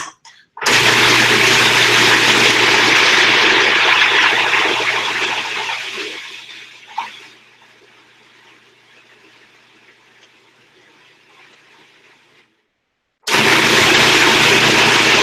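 Food processor blending a nut-based recipe mixture, a loud whirring grind that winds down to a faint hum, then cuts off and starts again at full volume.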